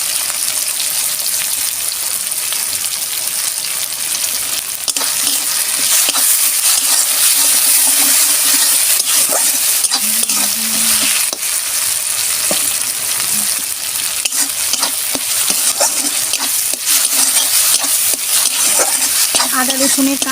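Spice paste frying hard in a pan, a loud, dense, continuous sizzle with crackling spatters and occasional stirring scrapes running throughout, no voices.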